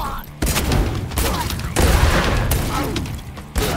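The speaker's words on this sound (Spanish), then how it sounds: "¡Ah, una escopeta!" Shotgun fire in the video game Warhammer 40,000: Shootas, Blood & Teef, loud heavy blasts in quick succession with dense booming bursts layered over game noise.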